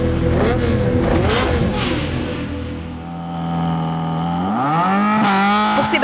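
A rally car driven by Galli tears through a special stage, its engine revving loud and close with rising and falling pitch as it accelerates and shifts, tires squealing briefly.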